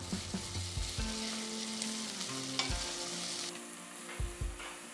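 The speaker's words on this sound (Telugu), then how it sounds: "ఇప్పుడు 1 టేబుల్ స్పూన్ అంతా దంచుకున్న అల్లం వెల్లుల్లి పేస్ట్ వేస్తున్నాను." Crushed ginger-garlic paste fries in hot oil in a pan, giving a dense, continuous sizzle with stirring scrapes and a few louder clatters, close up and without any voices.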